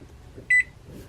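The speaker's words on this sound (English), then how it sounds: "we're gonna go ahead and preheat our oven to 350" A kitchen oven gives a single short electronic beep while being set to preheat to 350, clear and isolated against a quiet room.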